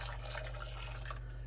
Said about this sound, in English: add 2/3 of a cup of boiling water, which I have here